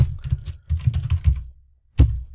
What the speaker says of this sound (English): I'm going to go ahead and type in some variables that I'm going to be using.